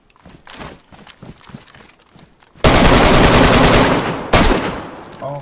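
Video game gunfire in the town of Stary Sobor erupts as a loud, sustained automatic burst after a stretch of quieter rustling, then a second short burst follows.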